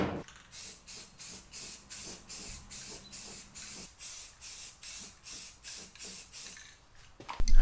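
A spray can paints the firewall of a traditional Ford hot rod, giving about fifteen short rhythmic hisses close by, evenly spaced, then a louder clunk at the end.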